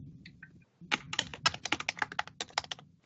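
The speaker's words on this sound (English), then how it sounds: "But I can hear the furious typing" Rapid, uneven bursts of key clicks as someone types quickly on a computer keyboard, close by, after a brief pause.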